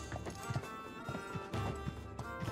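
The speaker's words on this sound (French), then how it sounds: "Parce que le cheval galope tout seul," A horse gallops in Uncharted 3, with quick rhythmic hoof clip-clops repeating steadily at low volume over a short stretch.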